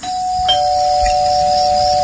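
A house doorbell mounted beside the front door is pressed, giving one loud, close, sustained electronic chime tone that holds steady to the end, with no voices.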